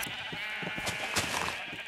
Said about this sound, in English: Right here, I've bred a ton of red sheep.